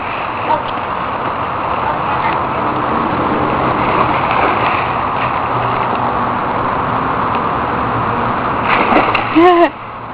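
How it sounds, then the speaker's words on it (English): Water sloshing and splattering as a child jumps in shallow water, a steady close wash of splashing across the whole stretch, with a brief voice and a louder burst of activity near the end. "Don't jump like that in that shallow water."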